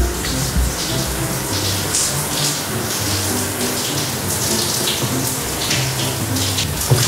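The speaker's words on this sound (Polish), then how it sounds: "No a prysznic zostawiam, żeby myślała, że się tak długo kąpię" A shower runs in a bathroom, a steady, dense hiss of falling water that goes on unbroken and fairly loud throughout, with no voices.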